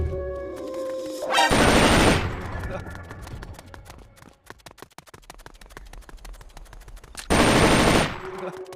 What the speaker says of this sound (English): You hear that? Gunshots! We're being shot at!